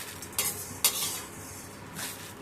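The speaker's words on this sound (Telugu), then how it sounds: "ఇప్పుడు ఈ ప్లేట్లోకి తీసుకుంటాం." Roasted black gram lentils being scraped from a pan onto a plate, two or three distinct metallic scrapes and rattles over a quiet, steady kitchen background.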